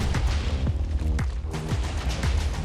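A rapid series of sharp, synthetic Minecraft gunshots fires in quick succession, loud and close, with no talking.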